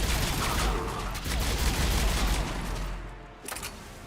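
Rapid gunfire in Mass Effect 3, a dense, continuous burst of shots with a heavy low rumble that briefly drops away near the end before resuming.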